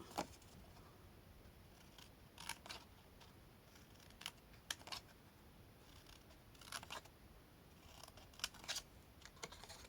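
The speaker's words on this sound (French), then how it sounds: "On va venir couper tout le long." Scissors snip through paper along a marked line while making a small ribbon storage box, quiet crisp cuts arriving in short irregular clusters, close up with no talking.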